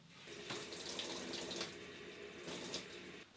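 Warm water runs from a kitchen tap into a measuring jug, a close, steady splashing stream with small surges in the flow and no talking.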